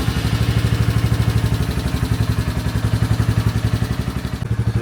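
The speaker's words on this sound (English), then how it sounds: "Let me just turn on the motorcycle." Royal Enfield Classic 350 motorcycle engine idling close by, a loud, steady single-cylinder thump with rapid even pulses and mechanical clatter, easing slightly near the end.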